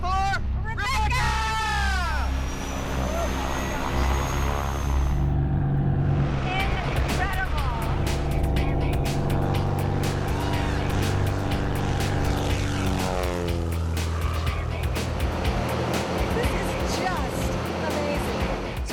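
Steady loud propeller-engine drone inside a small skydiving plane in flight, with excited voices and chatter over the continuous roar.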